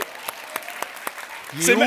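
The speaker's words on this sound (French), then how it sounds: "On peut l'applaudir, le bébé?" At a comedy show, a few scattered, sparse claps from the audience greeting a baby, quickly overtaken by a voice speaking at the end.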